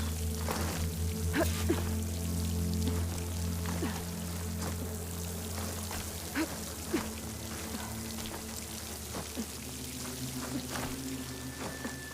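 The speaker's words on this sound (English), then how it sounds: "The water's flowing into the wall." Water streams and splashes steadily into a wall in Horizon Forbidden West, a continuous rushing pour under a low background hum, with scattered drip-like ticks over about twelve seconds.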